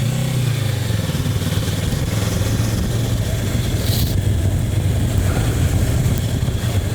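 A Kawasaki Versys 650 motorcycle engine pulls hard under open throttle, its steady mid-pitched drone rising and holding loud and close for the whole stretch, with broadband wind rush over it and no one speaking.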